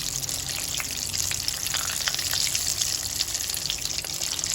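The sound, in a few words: vada frying in oil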